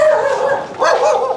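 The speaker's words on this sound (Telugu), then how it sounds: "అన్ని కుక్కలు పెట్టినారు?" Dogs bark and yelp close by in two quick, loud bursts with a whining, high-pitched edge.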